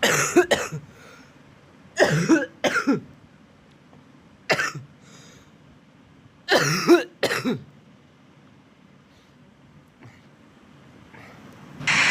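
A man coughs and clears his throat in several separate loud bursts, some single and some in quick doubles, with quiet pauses between them.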